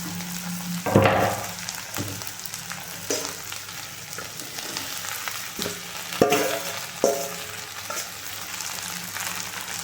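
Village-style okra fry cooking in oil: a constant crackling sizzle, broken by occasional knocks and scrapes from stirring.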